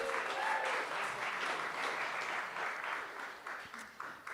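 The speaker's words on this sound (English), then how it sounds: "Give them a round of applause." Applause from a live audience at a games talk event, a crowd clapping steadily for several seconds and fading slightly toward the end.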